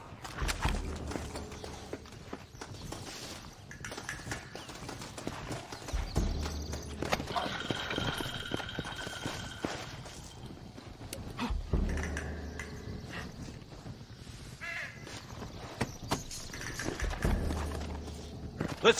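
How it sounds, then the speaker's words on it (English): Horse hooves clop in an irregular rhythm at moderate volume in the video game Red Dead Redemption, with game ambient sounds and shifting tones layered around them. "Looks like Carlos left us some horses."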